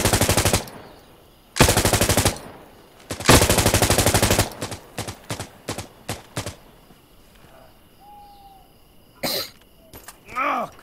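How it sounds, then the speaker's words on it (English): Bursts of automatic rifle fire in the tactical shooter Insurgency Sandstorm during a Marine fireteam raid on an insurgent stronghold: several long loud rattling volleys, then shorter scattered shots and a few distant pops. "Shooting, fire."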